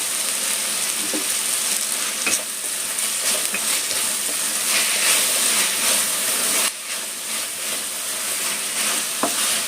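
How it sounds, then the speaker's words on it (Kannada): Onions frying in a pan for paneer kurma give a steady, loud, hissing sizzle with occasional stirring clicks and scrapes, continuous throughout with no talking. "ಈರುಳ್ಳಿ ಚೆನ್ನಾಗಿ ಫ್ರೈ ಆಗಬೇಕು"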